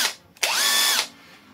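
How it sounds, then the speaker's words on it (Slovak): A Villager VLP 5720 cordless impact wrench, rated at 400 Nm, is used as a screwdriver on wood screws. A brief tap comes first, then one loud whirring burst of about half a second that winds down to quiet. "Vieme to použiť ako klasický skrutkovač na nejaké skrutky do dreva alebo šrouby do dreva."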